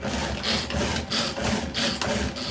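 A hand pull-cord chopper minces gruyère cheese, giving a close, rhythmic scraping whir that surges about four times as the cord is pulled again and again.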